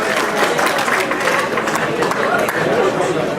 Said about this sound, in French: sous vos applaudissements.